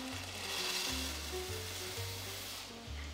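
Meatballs sear in a pan with a continuous, fairly faint sizzling hiss held over a low, steady tonal hum that rises and falls in blocks.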